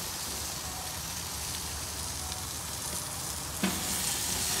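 Chicken drumsticks grill on a barbecue as fat burns off, making a dense, continuous sizzling hiss like rain, with one sharp pop near the end and no talking.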